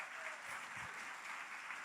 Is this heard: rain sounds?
no